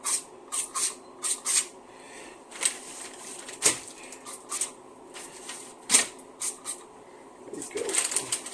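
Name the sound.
spray bottle spraying onto steak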